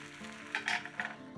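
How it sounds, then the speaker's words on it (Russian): Beaten egg fries as a thin pancake in a hot pan greased with vegetable oil, a soft close sizzle with a few brief louder bursts and faint utensil clinks. "Из яиц жарим 3 блина."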